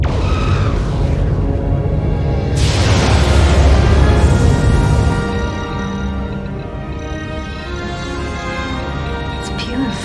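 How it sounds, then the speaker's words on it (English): A torpedo launches from a starship in a science-fiction scene, a loud whooshing roar that swells for several seconds and then trails into a lower rumble with lingering tonal hum. "Fire torpedo."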